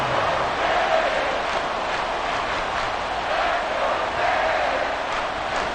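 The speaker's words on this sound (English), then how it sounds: "A big play here as the crowd noise rises" Crowd noise swelling through a virtual football stadium in Madden 24 during a Dallas Cowboys versus Miami Dolphins game, a broad continuous roar that rises in waves.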